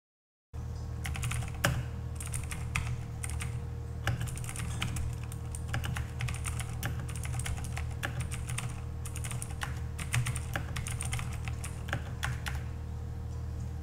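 Steady rapid typing on a mechanical keyboard with no noise suppression, a dense run of close, loud key clacks over a constant low hum that lasts the whole stretch, without any talking.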